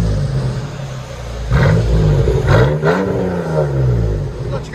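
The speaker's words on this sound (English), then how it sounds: "Nissan X-Terra, straight pipe with quad tips." A straight-piped Nissan Xterra with quad exhaust tips revs from a rumbling idle, climbing through two or three sharp throttle blips with a raspy, loud exhaust note up close.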